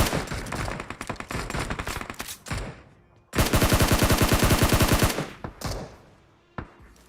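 Rapid automatic gunfire rings out in PUBG Mobile in two loud bursts, the second a sustained stream of shots about two seconds long, followed by a few scattered single shots.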